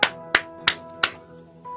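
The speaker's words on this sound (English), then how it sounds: "I start clapping." Four sharp hand claps ring out in an uneven rhythm, close and fairly loud, at a tabletop role-playing game session, with a faint sustained tone lingering beneath and no talking.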